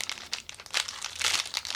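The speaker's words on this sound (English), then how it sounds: "So I'm just going to get my scissors onto the job." Scissors snipping and crinkling through posh parcel packaging during an unboxing, a run of close, papery rustling cuts and crackles with no talking.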